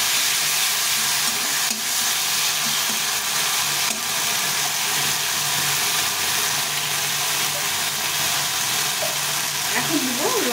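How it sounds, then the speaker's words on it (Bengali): Ginger and cumin paste frying with small chuno morola fish in a pan, a continuous loud sizzle and hiss with occasional stirring scrapes throughout. "এই বাটা মশলাটা দিয়ে দেবো"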